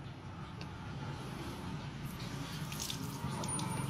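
Water is poured over tyres freshly coated with a black tyre dressing during car detailing, a steady soft splashing and trickling that runs unbroken and fairly quietly throughout.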